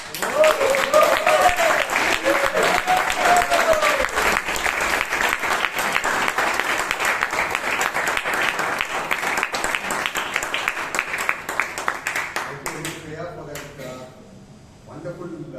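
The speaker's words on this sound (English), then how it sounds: "Kindly give a huge round of applause to the president, to the president of the Bangalore Toastmasters Club, Toastmaster George Dsa." Sustained, dense audience applause fills a Toastmasters club meeting hall in Bangalore, steady and loud for most of its length before thinning out, with a voice beginning to speak as it fades.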